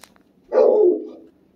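A puppy gives a single drawn-out bark or yelp outdoors at home, close and fairly loud, about a second long and trailing off, with no talk over it.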